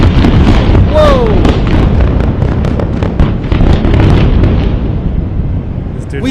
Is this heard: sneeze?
no